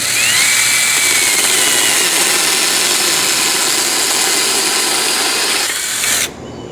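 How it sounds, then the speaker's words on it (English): A Sainlogic 6-inch cordless mini chainsaw cuts through wood with a loud, steady, high-pitched electric whine and grinding buzz. It runs continuously for about six seconds, then cuts off abruptly. "this is a chainsaw, so it's doing a very rough cut"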